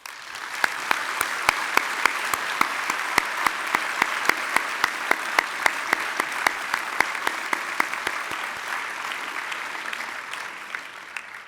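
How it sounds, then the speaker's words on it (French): Audience applause at a university honorary doctorate and doctoral degree ceremony, a steady, dense clapping that holds loud for several seconds and then eases slightly, with no voices over it. "Après ces applaudissements en guise de félicitations"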